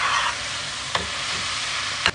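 Mushroom and cabbage being stirred and fried for pasta, a steady close sizzle with two brief utensil knocks against the pan.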